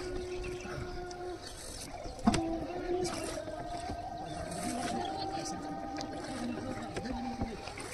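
Shikara boat gliding across Dal Lake in Srinagar, with soft paddle strokes and gentle water lapping under a hum of open-air ambience, a sharp knock near the middle and faint distant voices.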